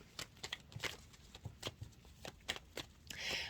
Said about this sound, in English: They're still shuffling.